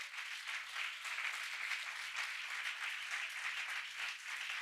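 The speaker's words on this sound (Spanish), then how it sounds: "un aplauso para todos los que hicieron posible." A church congregation claps after a theatre performance, a steady, fairly soft wash of many hands that continues evenly throughout, heard from a slight distance with no speech over it.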